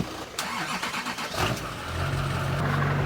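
A 2003 Duramax LB7 diesel pickup with a manual transmission cranks over briefly and catches, settling into a steady, close diesel idle rumble.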